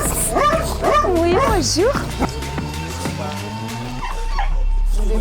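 Dogs kept outdoors yip, whine and whimper in quick, pitch-bending bursts with a few sharper barks, fairly close and loud, while a person speaks French over them.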